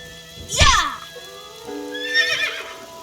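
A cartoonish merry-go-round horse whinnies once in the AI: The Somnium Files video game, loud and close, with a quieter second neigh-like call trailing after a short gap.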